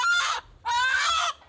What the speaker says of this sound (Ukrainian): З-під завалів витягають дивом вцілілу курку.